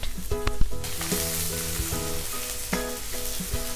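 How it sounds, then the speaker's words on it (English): Sliced onion, green chilies and curry leaves sizzle steadily in hot oil in a kadai, a close, continuous frying crackle with occasional clinks of a stirring spoon. "add sliced onion. Saute the onion until it's soft"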